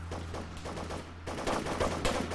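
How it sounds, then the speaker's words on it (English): Rapid bursts of automatic gunfire in Arma 3, a dense run of sharp repeated shots that grows louder and busier midway, with no talking over it. "Why is people up here shooting?"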